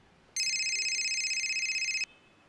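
A telephone rings in a quiet room, one continuous electronic ring lasting under two seconds, loud and close, with no voices over it.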